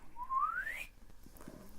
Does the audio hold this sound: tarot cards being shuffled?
no